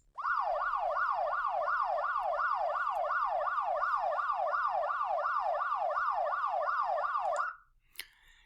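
A police siren wails in a fast, repeating up-and-down pattern for several seconds, loud and clear, then cuts off abruptly, followed by a brief click.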